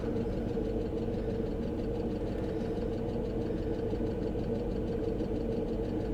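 A Mercedes coupe engine idles roughly and unevenly, struggling to keep running, with a steady low throbbing rumble and knocking pulses close by throughout, no talking.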